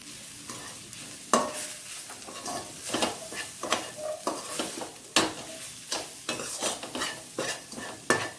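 Steady oily sizzling as cumin powder, coriander powder and chili powder fry in a pan, broken by repeated scraping strokes of a spoon stirring, close and fairly loud, with no voices.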